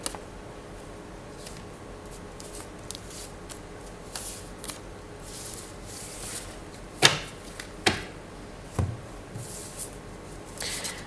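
Tarot cards being shuffled and drawn during a card reading, soft close rustling and flicking with a few sharper snaps of cards near the end, quiet and without talk.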